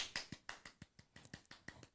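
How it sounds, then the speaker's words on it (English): A single person claps their hands in a quick, even rhythm, about a dozen sharp, fairly quiet claps in two seconds, with no talking. "Can y'all hear me clapping?"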